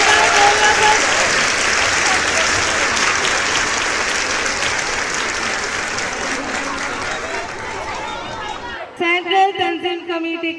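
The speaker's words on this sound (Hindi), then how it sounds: "तालियां बजाइए।" An audience at a school prize distribution gives a long round of loud, dense applause that slowly tapers off, and then a voice speaks over a microphone.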